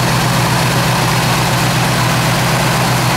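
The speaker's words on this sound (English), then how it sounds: "Engine runs great" A 1972 Chevrolet Nova's engine idles loudly and close up, a steady low rumble with an even throb and no voices.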